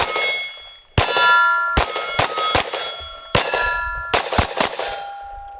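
Rapid pistol shots from a low-recoil 5.7x28 handgun with bullets striking steel targets, giving a series of sharp, loud ringing clangs in quick irregular succession, each impact leaving a metallic ring, with no talking.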